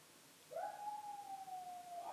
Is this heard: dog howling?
yes